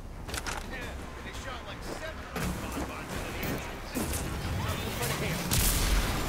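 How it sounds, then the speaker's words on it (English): Enemy gunfire in the video game Rage 2, a steady scatter of mid-distance shots and bursts crackling through busy game noise, building louder toward the end, with a voice talking over parts of it. "It's the people that are shooting at me."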